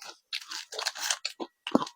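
A crunchy budget chocolate cookie is bitten and chewed close up, giving a quick series of dry, crackling crunches with brief pauses between them.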